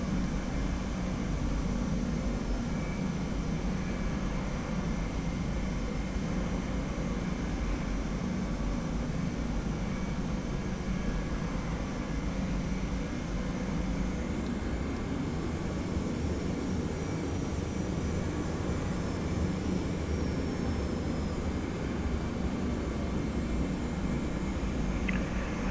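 Sustained broadband roar of a TFDi Boeing 717-200 jet airliner's engines in a flight simulator, steady and loud throughout with no talk, a faint rising whine appearing partway through.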